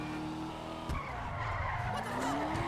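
A car in GTA V Online skids and drifts, its tires squealing in a long continuous screech over a revving engine, loud and close with no talking.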